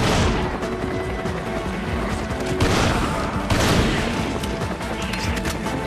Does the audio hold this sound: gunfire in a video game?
yes